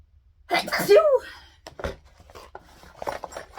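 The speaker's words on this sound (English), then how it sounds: "And I'm gonna sneeze." A loud close sneeze bursts out with a wheezy buildup, followed by softer breathy noises and brief vocal sounds.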